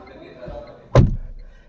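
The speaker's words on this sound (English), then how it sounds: "the door closes with a very great thud" A Tata Tiago iCNG car door swings shut from inside the cabin with one loud, solid thud, a sharp broadband hit that rings down briefly over quiet low background noise.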